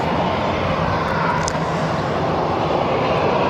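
A Singapore Airlines Airbus A350-900 wide-body jet departs, its engines a steady, loud broadband roar holding evenly across the short stretch with no voices.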